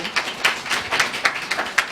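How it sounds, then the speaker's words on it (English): A modest audience at a blockchain summit gives a short, loose round of applause, with separate claps sounding distinctly and unevenly rather than merging into a continuous roar. "Can we give her a round of applause?"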